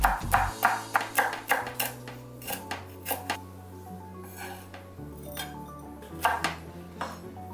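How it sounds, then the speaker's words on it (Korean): A knife thinly slices an onion on a cutting board, sharp regular taps in a steady rhythm, close and clear with no talking. "그래서 양파를 넣습니다. 얇게 썰어 있겠습니다."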